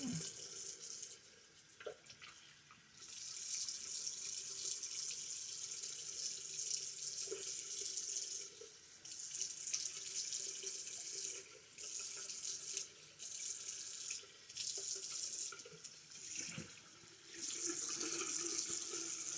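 Tap water runs steadily from a bathroom sink faucet during face washing, a close, continuous hiss broken by several brief pauses and splashy changes as hands move through the stream.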